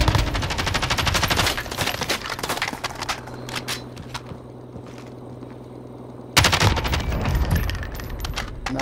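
Rapid automatic gunfire from a video game rattles in dense bursts, loud and close, easing off briefly before another heavy burst breaks out.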